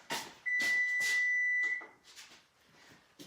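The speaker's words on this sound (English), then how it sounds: "There's my timer." A kitchen timer sounds one sustained, loud electronic beep lasting about a second, cutting across intermittent background clatter and movement noise in a home kitchen.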